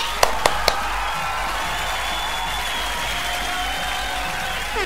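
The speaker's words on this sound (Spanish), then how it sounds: "Aplauso, por favor." Studio audience applauding on a Chilean late-night talk show: a few sharp, close claps open into a steady, dense wash of clapping that holds at an even level throughout.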